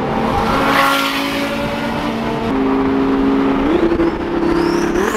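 A Lamborghini Murcielago LP640 with a 6.5-litre engine revs hard, a loud, steady high-pitched wail that climbs in stages, with tire noise and rushing air around it.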